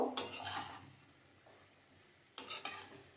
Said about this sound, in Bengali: এরপর এর মধ্যে দিয়ে দেব টমেটো আর ক্যাপসিকামটা এটাও মিশিয়ে নেব